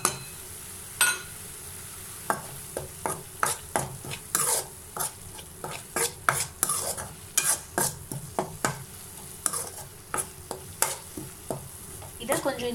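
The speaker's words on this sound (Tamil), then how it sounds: "இதை கொஞ்சம் இந்த மாதிரி வதக்கி விட்டுடலாம்." Ginger, garlic and ground pepper, cumin and fennel being stirred and sautéed in a pan for squid masala, with repeated scraping strokes in an uneven rhythm over a steady soft sizzle, close and alone.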